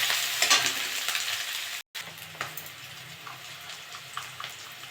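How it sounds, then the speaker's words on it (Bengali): Onion and green chilli frying in hot oil, a close steady crackling sizzle with a few stirring scrapes, briefly cut out by a short gap before resuming slightly quieter. "তেলটা গরম হয়ে গেছে, আমি এবার পেঁয়াজ দিয়ে দেবো, কাঁচা লঙ্কা দিয়ে দেবো।"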